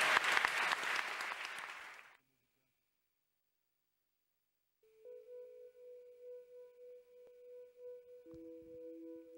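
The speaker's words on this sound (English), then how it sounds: "round of applause." A round of audience applause at a panel talk, dense and fairly loud for about two seconds before cutting to silence, followed by a steady electronic hum and tones.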